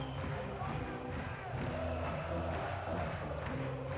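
Crowd at a beach volleyball Grand Slam semifinal in Klagenfurt between Brazil and the USA, a broad sustained roar of cheering and chanting filling the stadium, with a commentator's voice faintly beneath.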